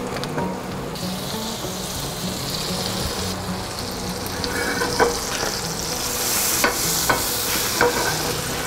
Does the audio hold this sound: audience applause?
no